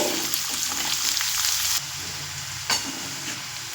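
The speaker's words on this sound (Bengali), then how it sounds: "এবার দিয়ে দেব মিডিয়াম সাইজের একটা পেঁয়াজ কুচি দিয়ে আবারও কিছু সময় রসুনের সঙ্গে ভেজে নেব" Chopped medium onion fries with garlic in a hot pan, a steady loud sizzle with faint stirring scrapes throughout and no voices.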